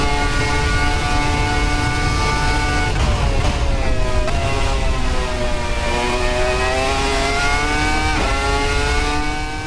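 A Red Bull RB1 V10 Formula 1 car in Assetto Corsa screams loudly and steadily at high revs, its pitch dipping and climbing sharply with several quick gear changes.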